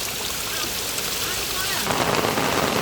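Heavy rain falls in Rangpur village as a continuous close hiss that swells louder near the end, with a voice faintly present beneath it.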